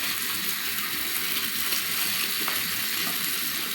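Chapa shutki, a fermented dried fish from Mymensingh, fries steadily in a pan for a biryani-style dish, giving a dense, continuous sizzle with a few faint stirring scrapes and no talk.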